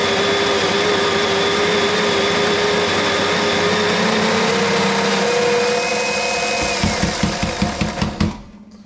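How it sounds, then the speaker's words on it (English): A Baratza Sette 270 home coffee grinder grinds espresso beans with a loud, steady motorized whine and buzz that runs nearly the whole time, then stutters into a rapid pulsing rattle before cutting off near the end. "Baratza set 270 is my current home grinder."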